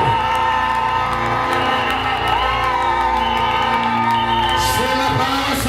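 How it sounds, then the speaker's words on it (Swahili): A church congregation at a gate-opening worship service claps and ululates together. A loud, sustained wash of cheering, high trilling cries and whoops fills the space, with scattered shouting voices mixed in. "Watu wote piga makofi mengi na vigelegele."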